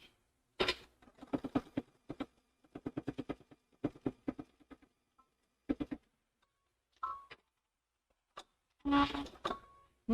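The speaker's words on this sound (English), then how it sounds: "So now we'll go back to the sewing machine and sew those guys down." A sewing machine stitches down the pieces of a fabric microwave bowl holder in several short, rapid bursts of needle clatter separated by quiet pauses and a few isolated clicks, close and fairly quiet, with no talking.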